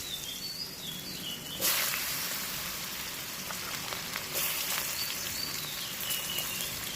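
Potatoes frying in a pan give a steady, bright sizzle throughout, rising slightly after the first couple of seconds, with faint bird calls chirping in the background and no talking.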